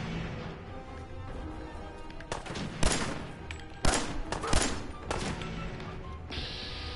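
Gunfire in the Fallout 4 video game, several sharp shots spaced irregularly over steady background noise, loud against the game ambience.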